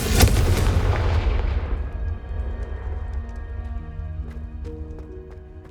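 A Confringo blasting spell in Hogwarts Legacy goes off as a loud close boom that fades into a rumbling tail over a few seconds, followed by faint tinkling, ringing game sounds.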